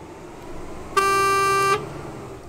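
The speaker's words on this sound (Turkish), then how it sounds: "Öyle de kornamız var arkadaşlar." A single long car horn honk in Euro Truck Simulator 2 on a Turkish intercity route from Antalya to Eskişehir, loud and steady for under a second over a low engine hum, with no talk.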